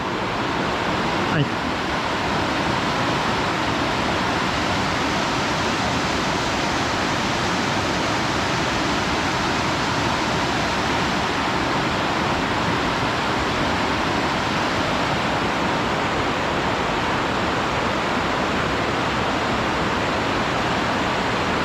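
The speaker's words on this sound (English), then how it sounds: "So I believe this is the Carbon River. A lot of water right now." The Carbon River below Mount Rainier runs high and fast, a loud, unbroken roar of rushing water close by, steady throughout with no voices over it.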